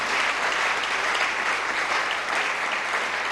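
Sustained applause from a church congregation, a steady dense clatter of many hands clapping together, holding at an even level for the whole stretch with no talk over it.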